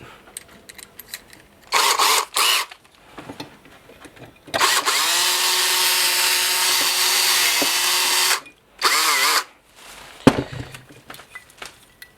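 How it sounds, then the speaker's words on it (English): Power drill fitted with a larger bit boring out a pin on a Norscot Cat 365BL scale model excavator, running in several loud bursts, one long steady whine in the middle, with quiet handling sounds between. "Now we're going to switch to a larger size drill bit."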